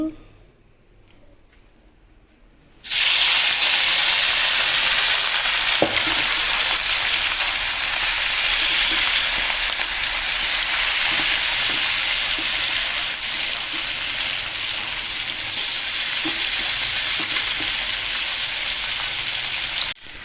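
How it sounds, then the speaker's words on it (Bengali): Fish spice paste fries in a pan with a loud, steady sizzle that starts abruptly after a few quiet seconds and continues without a break. "আমার মাছের মশলাটা কষানো হয়ে গেছে"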